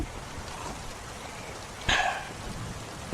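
Rain falls steadily outside during a stormy night, a soft continuous patter with a brief sharper splash or knock near the middle and another at the end.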